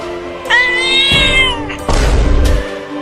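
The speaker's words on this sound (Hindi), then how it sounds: "अरे बाप रे, इतनी बड़ी बिल्ली कहाँ से आ गई?" A large cat meows in a loud, drawn-out cry, followed by a burst of harsh noise and a thud.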